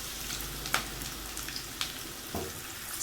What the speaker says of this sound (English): Once it's heated, add in 1 large or 2 medium-sized onions sliced as shown.